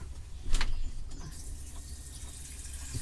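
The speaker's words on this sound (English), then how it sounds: "let me just fill this up with water" Water runs from a tap into a container, a steady rushing splash with a brief louder gush near the start.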